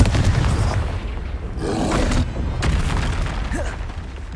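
A Confringo blasting spell going off in the video game Hogwarts Legacy, a booming burst with a roaring tail and a couple of following pops over a rumbling game backdrop.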